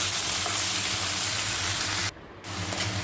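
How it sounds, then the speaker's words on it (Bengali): Boiled cabbage hits a pan of frying spices for a vegetarian cabbage pulao, giving a loud, steady close sizzle that cuts out briefly near the end and then resumes. "এখন এর মধ্যে বাঁধাকপি সেদ্ধ করাগুলো দিয়ে দিলাম, দিয়ে মশলাগুলোর সঙ্গে ভালোভাবে মিশিয়ে নিচ্ছি।"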